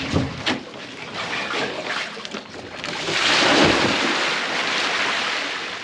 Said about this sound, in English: the first thing we're gonna need to work on is dumping this big tub here with the water